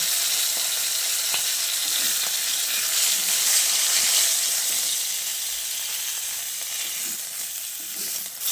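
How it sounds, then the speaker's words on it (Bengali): Pieces of rohu fish fry in hot oil with a steady, loud sizzle that holds evenly throughout, with a few faint clinks of a utensil. "মাছগুলোকে আমি এরকম লালচে করে ভেজে নিয়েছি"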